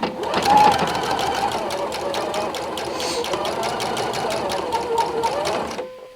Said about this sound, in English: we are going to sew these together down for that final seam